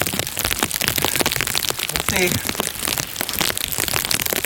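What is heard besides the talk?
rain falling in a forest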